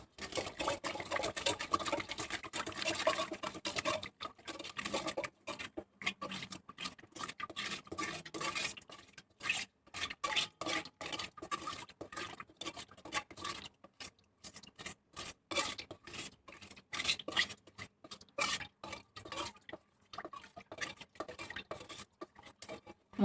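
A spoon stirs 7 grams of yeast into a pizza dough mixture in a bowl, making repeated scraping and clinking strokes, dense at first and then in uneven bursts separated by brief pauses.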